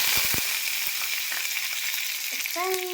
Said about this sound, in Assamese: তেল গৰম হৈ গ'ল দালি তেল মাৰিম ইয়াত দিছোঁ মই পাঁচফোৰণ নৰসিংহ পাত আৰু হ'ল শুকান জলকীয়া